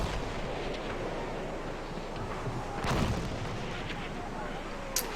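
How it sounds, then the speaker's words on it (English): Mortar rounds thud and boom in the distance during a 20 vs 20 Conquest match of the shooter Battlefield 1. The low, rumbling impacts sit under continuous battlefield ambience, with one heavier blast near the middle and a sharp crack at the end. "The vets are mortaring."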